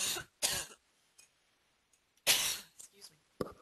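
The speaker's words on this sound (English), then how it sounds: "Oh, coughing." Harsh coughing bursts from an indoor presenter, two quick coughs followed after a pause by a longer loud cough fit and smaller throat-clearing sounds, close and dry.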